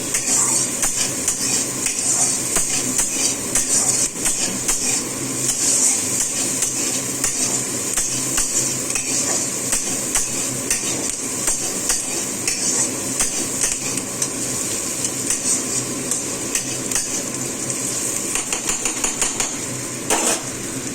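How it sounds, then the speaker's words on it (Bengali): Onions frying in a pan for a tadka, with a steady loud sizzle and continuous rapid scraping and clinking of a utensil stirring against the pan throughout, no voices. "পেঁয়াজটা ভালো করে ভেজে নিচ্ছি।"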